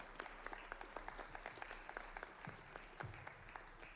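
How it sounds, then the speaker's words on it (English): Audience at an AI industry event claps for the panelists, a fairly thin, distant applause with distinct individual claps scattered across the whole stretch and no speech over it. "Let's get a round of applause for the panelists."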